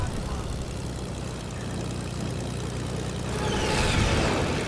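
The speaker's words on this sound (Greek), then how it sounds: "έχει άλλο αεροπλάνο εδώ πέρα πίσω μας" A video game airplane engine drones steadily and loudly during aerial combat, with a buzzing propeller-like tone that swells slightly near the end.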